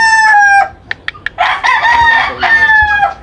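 Spangled blue-faced rooster crowing loudly and close by, one clear crow followed by a second longer crow after a few short clucks.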